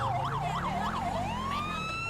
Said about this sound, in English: our custom siren is working